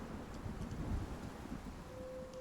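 Steady storm rumble with rain in the survival game Icarus, a low, continuous wash of noise with soft swells and no clear thunderclap, heard alone.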